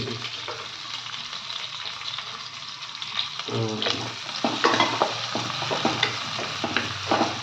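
Onions sautéing in a clay pot for traditional fish kulambu, a steady sizzle and crackle with stirring scrapes, close and continuous, getting busier in the second half.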